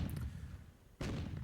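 Rocket barrage from the Myth II: Soulblighter game, a rumbling cluster of blasts and pops at the start that fades, then a second loud burst of impacts hitting hard at about one second.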